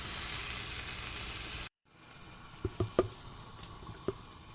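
Onion sautés in a pan for a Maharashtrian brinjal, potato and prawn bhaji. A loud, dense sizzle cuts off abruptly, then a faint hiss follows with a few sharp clinks and taps.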